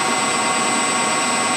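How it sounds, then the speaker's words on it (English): A machine spindle runs steadily at about 1200 RPM, a constant whirring hum with a high whine, even and unbroken throughout at moderate level. "So if we start the spindle at 1200 RPM, you can see that currently it's running at 1204 RPM."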